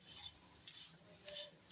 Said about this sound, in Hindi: सेवइयों को डालकर इनको अच्छे से हम भूनेंगे।